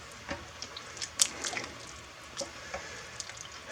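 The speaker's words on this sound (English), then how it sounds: "So that's 1 jar of chunky salsa. And stir that in." A jar of chunky salsa is stirred into a pot of chili, giving faint wet squelches and soft spoon clicks scattered irregularly over quiet background.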